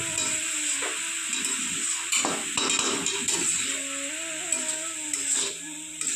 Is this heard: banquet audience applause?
no